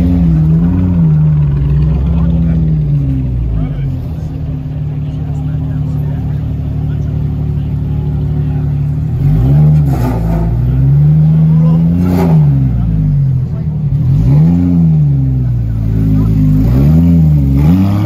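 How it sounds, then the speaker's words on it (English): A loud supercar at a downtown Los Angeles car meet rumbles at a high idle, then rises in repeated throaty revs toward the second half, close and dominant over the surroundings. "This car is loud."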